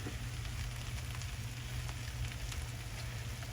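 Butter sizzling in a frying pan while making Spam fried rice, a steady close crackling hiss with fine pops under a low hum, no voices.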